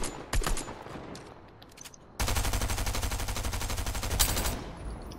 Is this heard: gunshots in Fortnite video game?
yes